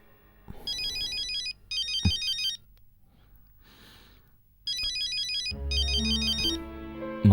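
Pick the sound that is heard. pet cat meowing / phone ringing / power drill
phone ringing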